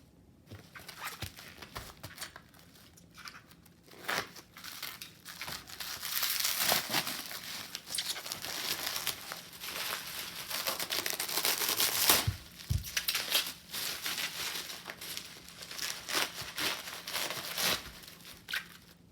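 Saran wrap and bubble wrap packaging around Pokemon cards being unwrapped, close crinkling and rustling that swells and fades in bursts, with sharper crackles and occasional pops, no talking.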